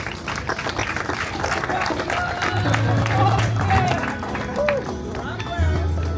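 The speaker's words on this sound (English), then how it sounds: "a big round of applause for Anne Harding" A crowd at an outdoor roadside parliament gathering in Holetown, Barbados, applauds a speaker: loud, dense clapping mixed with cheering and babbling voices, with people talking throughout.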